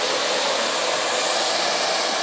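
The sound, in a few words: hair dryer blowing while blow-drying hair with a brush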